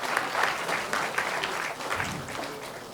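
Loud audience applause at a government ceremony opening, dense sustained clapping from a large crowd, close and even, fading slightly toward the end.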